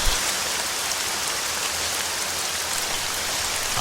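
Heavy rain in the Arma 3 game under high overcast, a dense, even hiss of downpour on surfaces with no breaks, steady and fairly loud on its own.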